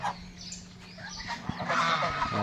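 Domestic geese on a farm giving a few scattered honks and calls, moderately close, with other fowl chatter and a low background hum.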